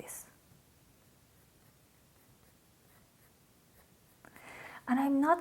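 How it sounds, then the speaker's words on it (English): Faint, soft scratching of conte crayon lightly shading on paper, a quiet rustle of strokes, then a voice speaking near the end. "Barely my conte is touching the paper"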